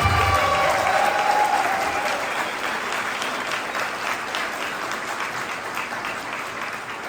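A crowd at a public press conference in Paris claps strongly, loudest at the start and then easing to a steadier, slightly softer applause that continues throughout.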